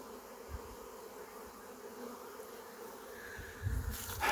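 Honeybees buzz continuously around the listener, a soft droning hum with a few louder passes close by near the end.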